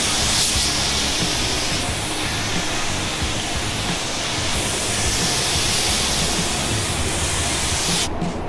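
Spray gun laying vintage sealer across a large truck hood, a steady close broadband hiss that runs continuously with only slight swells and a brief break near the end.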